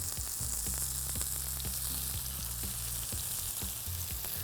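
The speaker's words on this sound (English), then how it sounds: "just simply gently sear the cabbage parcels" Cabbage parcels searing gently in a pan, a soft steady sizzle with scattered light taps and pops, close and fairly quiet.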